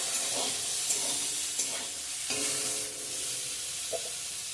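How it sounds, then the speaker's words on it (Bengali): Cauliflower florets frying in a pan give a steady, close sizzle throughout, broken by occasional scraping stirs and light clinks of a spatula. "ভালো করে ভেজে নিব সুন্দর করে ফুলকপিটা"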